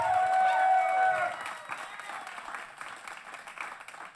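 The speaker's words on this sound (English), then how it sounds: "please give a round of applause to what you've seen in this festival." A poetry festival audience claps in a loud burst that fades to thinner, scattered clapping. A brief high ring is heard at the start.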